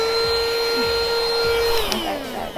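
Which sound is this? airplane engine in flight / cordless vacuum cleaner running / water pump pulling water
cordless vacuum cleaner running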